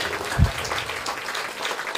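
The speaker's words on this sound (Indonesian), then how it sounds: "tepuk tangan buat Tuhan Yesus" A church congregation applauds during a pastor's sermon, a brief, even wash of clapping with one low thump near the start.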